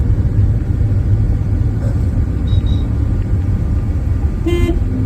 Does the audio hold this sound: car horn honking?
yes